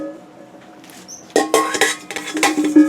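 A peeled garlic clove lands in a metal bowl with a bright clatter, followed by several more rattling, ringing taps against the metal, close and fairly loud with no talk.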